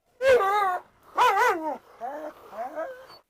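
A dog gives two loud, tonal barks followed by two softer whining yelps, close by with short pauses between.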